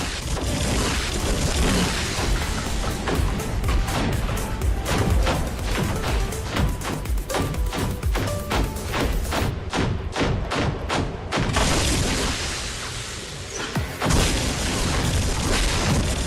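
A built-in shotgun on a mech in War Robots fires in a rapid run of heavy, thudding blasts, loud and dense, with brief pauses and booming impacts layered over constant battle rumble.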